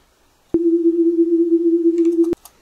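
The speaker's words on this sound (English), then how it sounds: "it makes that stereotypical alien ship hovering in the air sound" A single steady tone from combined synthesized sine waves, like a hovering alien ship, with a slight wavering pulse, loud and pure, holds for nearly two seconds, then stops abruptly; faint clicks near the end.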